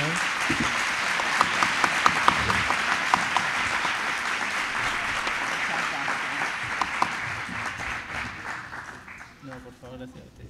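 Sustained applause from a seminar audience thanking three panel speakers, a full, even roar of clapping for about nine seconds that thins and dies away at the end, with faint voices underneath.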